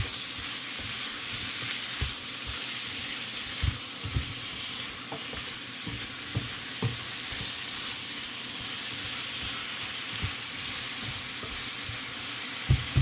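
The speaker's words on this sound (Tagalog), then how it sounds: "Tingnan natin ang ating ginigisa." Mung beans and spinach sauté in hot oil with a steady, close, dense sizzle, broken by scattered soft taps and scrapes of stirring.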